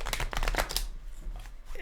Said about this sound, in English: I'm giving it one more shuffle while we're here